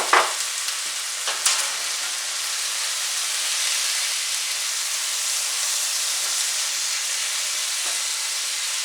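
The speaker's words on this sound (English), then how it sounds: "Trying to cool the pan down right quick so my onions and garlic don't burn" Onions and garlic sizzle steadily in a hot pan, a loud, even hiss close by with a couple of brief clinks near the start and no voices.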